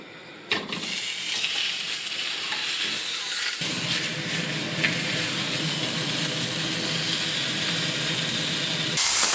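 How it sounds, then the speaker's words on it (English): Sous vide lamb searing in oil in a hot pan, a steady loud sizzle and hiss that begins after a brief clatter and runs continuously to the end with no one talking. "So what I'm going to do now is just sear that in a hot pan"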